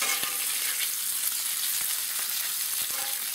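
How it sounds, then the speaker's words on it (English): Bacon frying on a Blackstone outdoor griddle, a constant close hiss of sizzling fat with scattered small pops and spits throughout, no voices. "Anybody else just love the sound of bacon cooking?"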